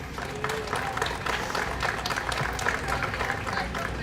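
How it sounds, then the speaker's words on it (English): A crowd at a softball World Series applauds both teams, a steady dense wash of clapping and cheering from many people, moderately distant, with some talk mixed in. "please give both teams another round of applause"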